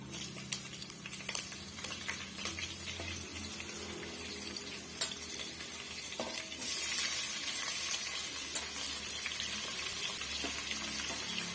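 Onion, ginger and chilli sauté in a pan for lemon rice, a soft steady sizzle with scattered stirring clicks and scrapes, growing a little louder and hissier partway through, with no voices.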